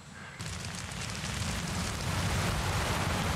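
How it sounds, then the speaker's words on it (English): Heavy rain suddenly begins to pour in a scene from the TV drama Lost, a dense, loud hiss that starts abruptly and keeps building. "It actually rained."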